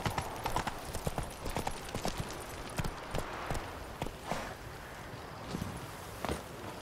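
A horse's hooves clip-clop at a steady gallop in the video game The Witcher 3, with a run of regular hoof strikes close by over a low ambient wind bed and no talking.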